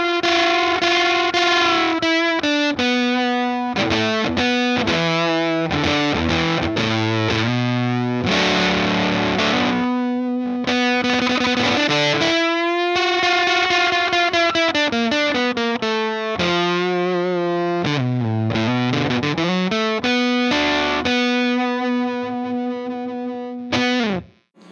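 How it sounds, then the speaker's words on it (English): Electric guitar played through a Tone Hungry Effects Fuzz Cream pedal, thick fuzz tone with sustained chords and single-note riffs, loud and continuous, alone with no talking. "this is the most iconic fuzz sound of the pedal"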